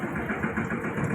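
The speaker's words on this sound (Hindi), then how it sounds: "ये मोटरसाइकिल" Steady, loud motorcycle engine idling up close with a low rumbling throb, running continuously under a voice talking.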